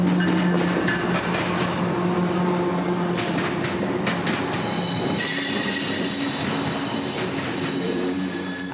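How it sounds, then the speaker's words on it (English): Freight train M441, pulled by three locomotives, rumbles past loud and close in a continuous roar, with wheels squealing and clattering steadily throughout and no one speaking. "Coming from the north would be M441, running as an evening train this day with 3 locomotives in total"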